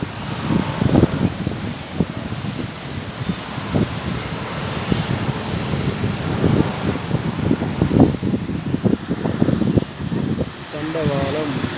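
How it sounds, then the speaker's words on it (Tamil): Wind blows steadily on a Colombo beach in Wellawatte, buffeting the microphone in rough gusts as someone keeps talking through it. "கூதல் காற்று தான் அடிக்குது."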